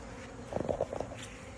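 Honey bees buzz faintly inside a meter box, a few short, uneven hums rising briefly over a low background rumble.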